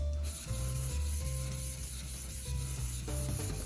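A kitchen knife is stroked along a sharpening surface to flatten the burr, making steady rasping rubs in a few repeated passes, close and fairly quiet, with faint tonal sound behind.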